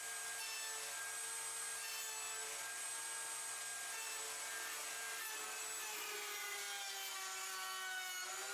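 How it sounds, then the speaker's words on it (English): A router running a bit through a wooden board to cut a T-slot for a workshop fence track, a loud steady high-pitched whine with a grinding cutting rasp, continuous and close, no talk. "After this pass, I clean the shavings from the T-slot"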